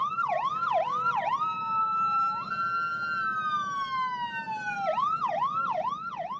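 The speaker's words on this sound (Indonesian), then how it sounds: "Diiringi bunyi sirene" A loud wailing siren at a wedding procession cycles through rapid yelps, shifts to a long drawn-out wail, then returns to fast yelping, with a low rumble underneath.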